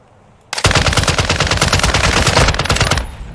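A RAAL machine gun in Call of Duty DMZ unloads one long, loud, unbroken automatic burst of rapid rounds lasting about two and a half seconds, close up, with a quiet lead-in before it.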